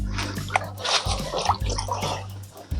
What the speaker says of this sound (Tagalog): ibabad muna natin sa tubig